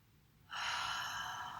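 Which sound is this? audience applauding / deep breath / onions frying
deep breath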